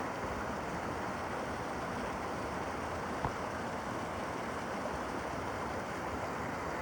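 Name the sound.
mountain waterfall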